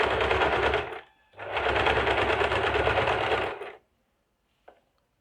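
A sewing machine runs a double line of stitching on a princess-cut blouse: two loud continuous runs of motor whir and needle clatter, separated by a brief pause and ending abruptly, with one faint click after.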